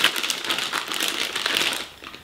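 A plastic piping bag being opened out by hand before filling with chocolate, a close, crisp crinkling and rustling that runs steadily, then tapers off at the end.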